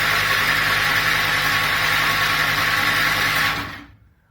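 A Ford GPW Jeep engine being cranked on the starter, a steady loud mechanical churn that holds evenly for about three and a half seconds, then cuts off abruptly into silence.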